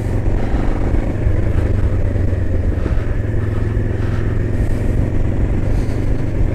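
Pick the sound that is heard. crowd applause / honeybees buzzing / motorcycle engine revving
motorcycle engine revving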